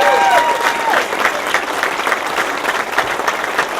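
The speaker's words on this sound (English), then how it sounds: "a round of applause for people with great courage" Audience at an outdoor home groundbreaking ceremony at Camp Hope gives a loud, sustained round of applause, with dense steady clapping throughout and a brief whistle near the start.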